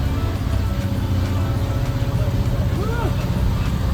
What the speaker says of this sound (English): popping a Yui with a 42-foot bus on a Honduran motorway